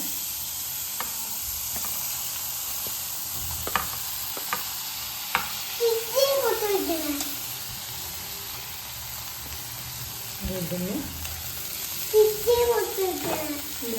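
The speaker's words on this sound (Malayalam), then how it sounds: "ഈ ബട്ടർ ഒന്ന് അലിഞ്ഞത് നമുക്ക് ഇതിലോട്ട് സവാള ഇടാം." Chopped onions frying in melted butter in a pan, a steady soft sizzle throughout with occasional stirring scrapes and a voice talking briefly over it.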